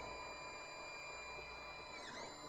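A Creality 3D printer runs steadily with a constant mechanical hum and a faint high whine, no talking, continuous throughout, while the extruder fails to push filament through the nozzle.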